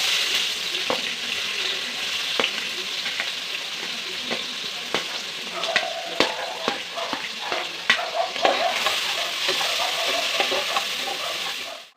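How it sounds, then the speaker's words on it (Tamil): Sliced onions fry in a pan with cardamom, cinnamon and cloves for egg biryani. A constant close sizzle runs under repeated scraping clicks of a spoon stirring, which grow busier midway, with no voices. "வெங்காயம் போட்டுக்கலாம்."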